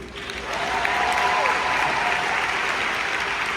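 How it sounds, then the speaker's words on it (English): Sustained audience applause fills a large hall at a company mission event, a steady dense wash of many hands clapping at once, loud and continuous from start to end with no voices over it. "Let me hear you applaud if you agree with that."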